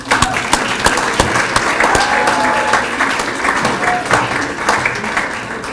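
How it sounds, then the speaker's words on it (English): A large crowd at a reunion ceremony claps steadily, a dense wash of applause that holds at an even level throughout. "let's give them a round of applause"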